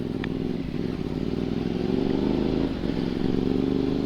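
A motorcycle engine, on a BMW 1200 at a rally, drones and revs nearby, its buzzing note rising and falling, with a brief clatter near the start and no speech.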